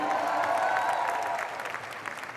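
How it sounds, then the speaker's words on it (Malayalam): A crowd at a film audio launch event applauds for a child with dense, steady clapping and some crowd murmur beneath it, fading slightly toward the end. "ആ കുട്ടിക്ക് ഒരു വലിയ കൈയടി മേളം കൊടുത്ത എല്ലാവരും കാണാൻ."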